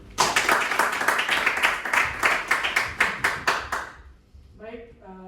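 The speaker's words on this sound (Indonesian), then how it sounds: "Baik, tepuk tangan untuk kita semua." A room of participants at an offline meeting claps together at the close, a loud run of sharp, fairly regular hand claps for about four seconds before a voice begins speaking.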